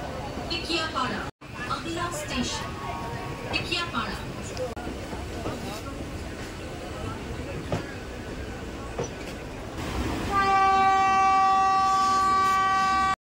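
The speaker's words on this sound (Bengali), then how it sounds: "আমাদের ট্রেন প্রায় 5 মিনিট লেটে ছেড়ে দিল হাওড়া জাংশন রেলওয়ে স্টেশন" A local train pulls out of Howrah Junction station amid steady crowd babble and rumbling rail noise, then a loud, sustained tonal horn or siren sounds near the end.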